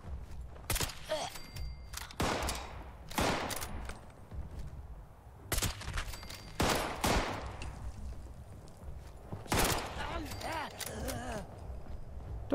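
Gunfire in the video game Fallout 76, several sharp bursts of shots spread across the clip, with someone talking in German between them.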